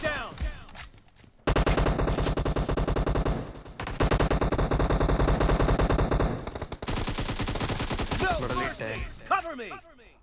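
Rapid bursts of automatic gunfire from a video game, loud and nearly continuous, with brief pauses between long volleys.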